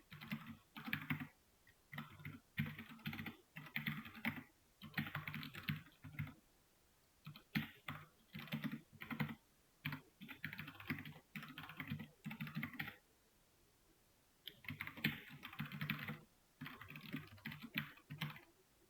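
Steady bursts of typing on a computer keyboard, clicking keys in quick runs separated by short pauses, close and fairly loud with no voices.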